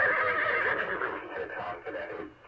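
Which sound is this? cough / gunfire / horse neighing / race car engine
horse neighing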